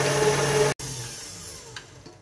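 An electric mixer whirring steadily as it beats muffin batter with brown sugar and oil, cutting off abruptly, then a quieter scraping, clinking tail.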